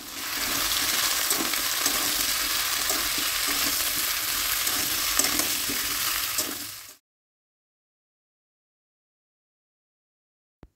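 Carrot and pumpkin pieces stir-fried in a pan for a mixed vegetable dry dish, a continuous close sizzle with rhythmic spatula scrapes for about seven seconds, then silence.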